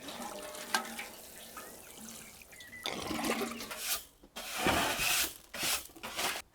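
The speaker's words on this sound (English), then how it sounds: "for a much deeper soak, they need a bit of overhead watering as well" Water pours and splashes from overhead onto freshly sown seed trays in a potting shed. Quieter dripping and trickling comes first, then louder, steady spraying in several close bursts.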